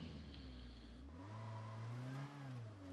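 A video game car engine revs and accelerates up a road, its tone sliding upward and then easing back in a smooth, moderately loud whir, with no one speaking.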